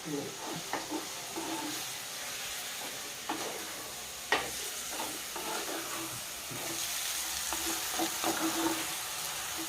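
Palak and tomato curry with salt and turmeric is stirred in a pan, giving soft scrapes and clinks over a faint sizzle, quiet and close, with no talk.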